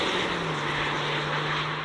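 Steady, loud drone of a 2022 Volkswagen Amarok W580S V6 ute's exhaust under throttle, a continuous engine note with no talking.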